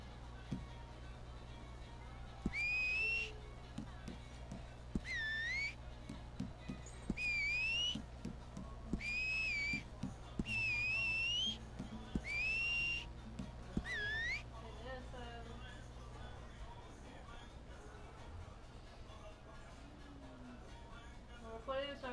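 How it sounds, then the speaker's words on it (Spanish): A whistle blows in a series of short rising and falling tones, about eight toots spaced a couple of seconds apart, over a low indoor hum. "Silbido."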